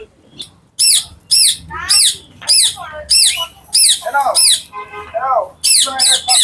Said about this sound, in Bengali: দেখো কি সুন্দর পাখির আওয়াজ